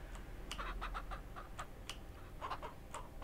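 Soft, rapid peeping of chicks in the video game Ranch Simulator, repeating in short bursts over a steady low hum, with no voices.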